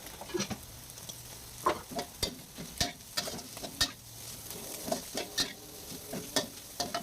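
Garlic chive leaves go into a sizzling Thai stir-fry pan, with a steady low fry hiss under repeated sharp clacks of a utensil stirring and tossing.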